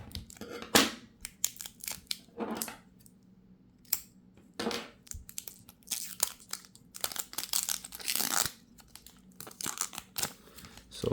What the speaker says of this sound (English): Alright, got the scissors. Just cut this.